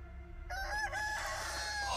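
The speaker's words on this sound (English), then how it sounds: "It's like a mini chicken." A chicken crows in the video game Chicken Feet: one short, clear cock-a-doodle-doo with rising and falling tones, close and prominent over a low background hum.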